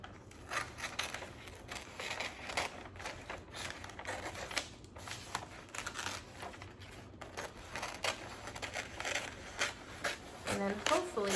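Scissors snipping off excess wrapping paper while wrapping presents, with a run of close crisp cuts and paper rustle as a voice talks alongside.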